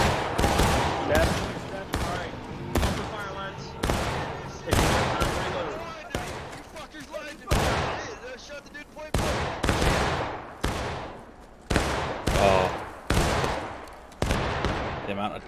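Gunfire in a zombie video game: a rapid series of loud, sharp shots in bursts, repeating roughly every half second to second across the whole stretch, with occasional voices beneath.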